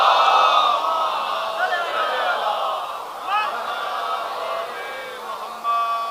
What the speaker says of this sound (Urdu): ایک اور بلند صلوات پڑھ لیجیے۔